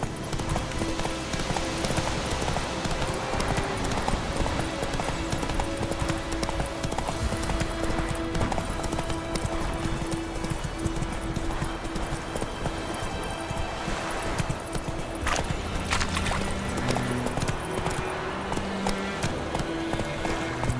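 Horse Roach galloping in The Witcher 3 video game, rapid rhythmic hoofbeats pounding continuously and loud, layered with game music and ambience.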